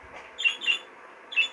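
A young bird on its perch gives three short, faint, high chirps in quick succession, sparse and quiet with little else around.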